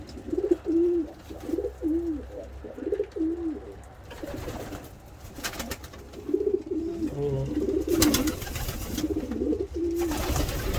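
Pigeons at a breeder's loft coo repeatedly in rolling, throaty phrases, loud and close, with short pauses and some clattering movement between bouts.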